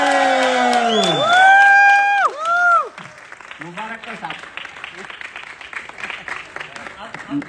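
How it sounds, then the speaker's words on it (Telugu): A crowd lets out loud, piercing whistles that swoop up and down, then claps and cheers in a dense rattle as a voice calls out over the noise. "ఒక్కసారి గట్టి క్లాప్స్, కీకలు."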